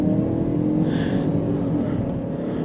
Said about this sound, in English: Plenty of power from this 2-liter engine,